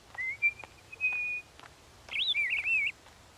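Someone whistles to birds in a cartoon: a clear high whistled tone glides and holds, then a warbling, trilled phrase follows, a voice imitating birdsong, close and alone over quiet background.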